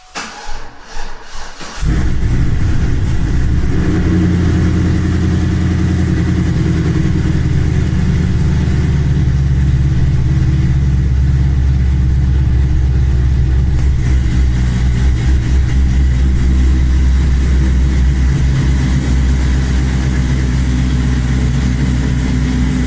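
A car fires up after a brief crank, then settles into a loud, close idle that rumbles steadily with slight rises in revs while being pulled out, no talk over it.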